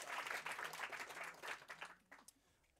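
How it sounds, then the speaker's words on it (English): Audience applause at an evening housing meeting, thanking a guest speaker: quiet, fairly dense clapping for about two seconds that quickly thins to a few scattered claps. "Please give him a hand of applause."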